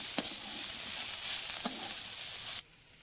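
Fried cauliflower greens sizzle steadily in a pan with a few scraping stirs, a continuous bright hiss that cuts off abruptly as they are taken off the heat.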